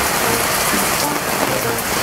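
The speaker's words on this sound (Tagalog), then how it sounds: "Pero ngayon, bigla ng umulan, oh, ang lakas pa" Heavy rain pours down outdoors at a home garden, a dense, continuous hiss of drops striking surfaces, close and loud with no voices.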